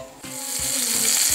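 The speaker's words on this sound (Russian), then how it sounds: "Ждем, когда котлетки обжарятся с одной стороны" Steady loud sizzling of beef patties frying in a pan, with a few soft scrapes of a utensil.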